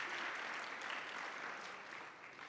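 A seated audience at the KZN Youth Business Awards 2023 ceremony breaks into a dense round of applause, steady and fairly loud throughout, tapering slightly at the end.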